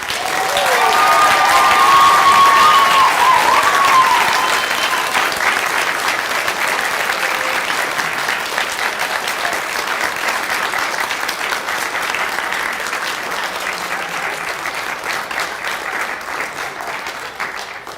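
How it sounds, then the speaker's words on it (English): Hearty crowd applause at a school bard competition, loud dense clapping with a little cheering that swells early and then slowly tapers over the stretch, with a brief voice near the start. "can we give one more big round of actual applause?"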